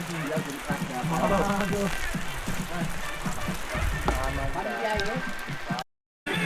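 Rain falls steadily on the Cemoro Sewu trail up Mount Lawu, a continuous patter under voices and hiking sounds, then it cuts out briefly near the end.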